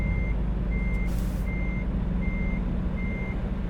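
A Mack truck reversing in American Truck Simulator gives five evenly spaced high electronic beeps over a steady low diesel engine idle rumble, with a short hiss of air partway through.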